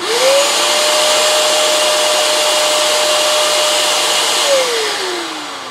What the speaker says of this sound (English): it surged to a thousand when the pot turned off, and then went to about 800 to run this wet vac